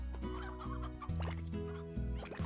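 Chickens clucking in the Slime Rancher video game: a cluster of close, loud, choppy clucks and squawks overlaps in quick bursts against a sustained musical backing.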